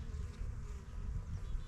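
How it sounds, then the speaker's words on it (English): Honeybees buzz inside an opened hive that has become weak after losses, a low, continuous, fairly close drone with a gently wavering level and no talking. "There's a lot of bees in there"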